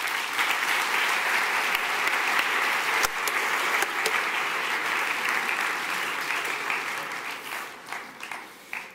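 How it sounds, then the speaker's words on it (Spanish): Loud, sustained applause from a tech event audience welcoming a team onto the stage, dense clapping with a few sharper claps, thinning out toward the close. "Un aplauso para mi equipo."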